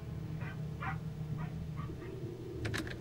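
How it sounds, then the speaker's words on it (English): A dog barking outdoors in the video game Mr. Hopp's Playhouse 2, a string of short muffled yips and barks at moderate distance over a low steady game hum, ending with a few sharper calls. "I can hear bear barking outside."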